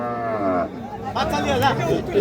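A cow lows at a village cattle market, a drawn-out moo at the start followed by more bovine calls mixed with nearby chatter and voices.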